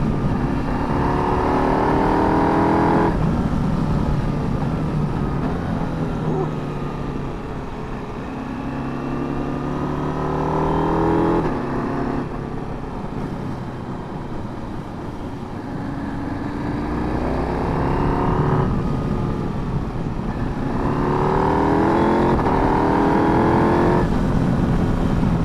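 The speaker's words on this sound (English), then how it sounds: "And this engine just feels effortless as well up through the quick shifter." A KTM 890 Adventure motorcycle engine accelerates hard through its quick shifter on a road ride in Wales. The loud engine note climbs in repeated rising sweeps, each cut short by a quick upshift, with road and wind noise underneath.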